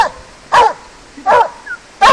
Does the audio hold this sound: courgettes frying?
no